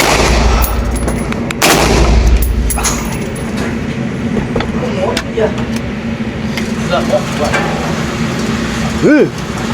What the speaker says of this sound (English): These are the shots from the FRT.